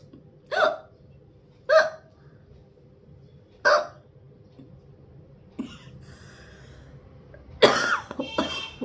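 Three sharp, isolated throat bursts spaced about a second apart, followed by a harsher cluster of close coughs near the end.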